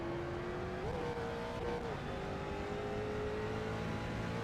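A street stock race car engine at a steady high drone on an oval track in the iRacing sim, with a brief pitch shift around a gear change and otherwise constant, loud, close engine noise throughout.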